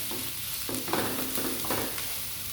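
Onions and garlic frying over medium-low heat for sambal tumis with prawns, a soft steady sizzle with a few stirring scrapes, close and without talk.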